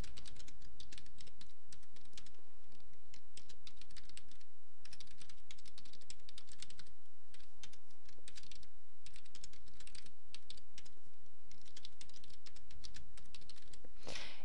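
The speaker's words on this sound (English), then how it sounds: "I'm just going to type in 5 states and their capitals" Steady, fast typing on a computer keyboard, with dense clicking keystrokes broken by short pauses, quick bursts of keys and a slightly louder strike near the end, close and clear with no talking.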